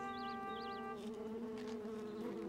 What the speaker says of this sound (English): that bee buzzing over all the flowers.